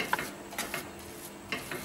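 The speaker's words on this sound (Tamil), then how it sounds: "இதை சூட்டோடு வந்து நல்லா மசிச்சு விட்ருங்க." A spoon stirs and mashes hot ven pongal in a pot, giving soft scraping and knocking taps in a short, quiet burst.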